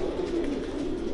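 Soft, low pigeon cooing, a steady murmuring coo close by, quiet and without talk.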